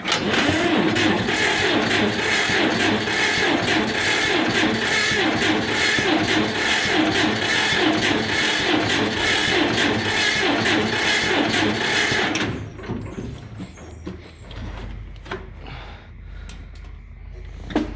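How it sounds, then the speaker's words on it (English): A John Deere or Farmall tractor turns over on its starter during a cold start, cranking loudly and continuously for about twelve seconds before cutting off, with quieter clicks and rattles afterward. "flip on the ignition switch, pull the choke, and hit the starter button, see what happens"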